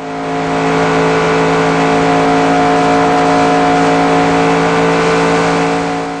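A NASCAR stock car in NASCAR Racing 2002 at Coca-Cola Superspeedway holds a steady, loud, droning engine note at high speed through a gentle turn, with no break in the sound.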